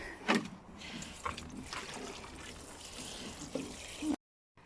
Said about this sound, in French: Et là pareil, on va arroser un peu.